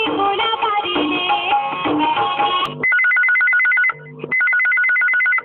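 An electronic telephone ringtone trills in repeated bursts with a brief pause, following a stretch of music, as a listener calls in to a Chhattisgarhi radio song request show.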